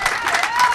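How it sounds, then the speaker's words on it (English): A breakfast audience breaks into a round of applause, a short burst of many hands clapping with a faint musical tone rising underneath, loud and steady for under a second. "How about a round of applause for Brent and Kyle Pease?"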